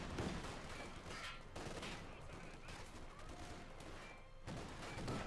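Battle sounds from Company of Heroes 2 give dense, continuous gunfire with machine-gun bursts and scattered distant blasts, a steady rattling wall of noise across the whole stretch.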